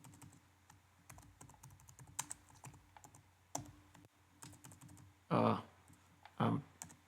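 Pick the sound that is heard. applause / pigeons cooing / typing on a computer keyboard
typing on a computer keyboard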